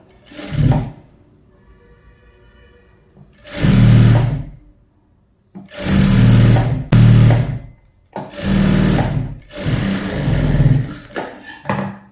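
Sewing machine stitching a puff sleeve seam, running in four loud bursts of rapid mechanical whirring separated by short pauses, close up with no talk.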